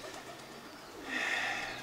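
Racing pigeons in a loft give soft, low cooing calls, faint and close, swelling slightly toward the end against a quiet room background.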